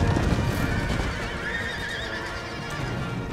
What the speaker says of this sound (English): Now there we go, proper horse battle.